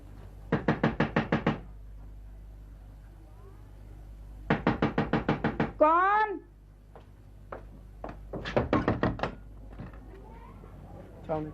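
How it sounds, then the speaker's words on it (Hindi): Loud knocking on a wooden door comes in three bursts of rapid raps, with a voice and other brief noises between the rounds, in a domestic scene from a classic Pakistani TV drama. "तुम दरवाजा पीट रहे थे?"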